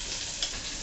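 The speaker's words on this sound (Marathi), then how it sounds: "आणि कांदा हा आपण या तेलात भाजून घेणार आहोत" Sliced onion fries in hot oil for a mixed vegetable bhaji, a close, steady sizzle with a soft crackle throughout and no voice over it.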